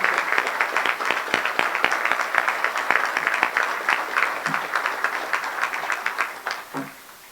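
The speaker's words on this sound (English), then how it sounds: "also be offered our applause for all that you do all year" A standing audience at a Salvation Army Christmas breakfast in Lowell applauds, steady rhythmic clapping from many hands throughout, tapering off at the close with faint voices underneath.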